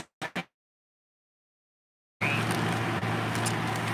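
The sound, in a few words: electric fan running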